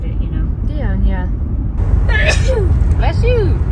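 One sharp sneeze bursts out inside a truck on a snowy grocery run, set against the steady low rumble of the vehicle, with people talking before and after.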